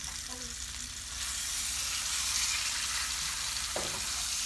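Pot roast meat sears in a hot pan with a steady, close sizzle that swells slightly partway through, with a brief clatter near the end.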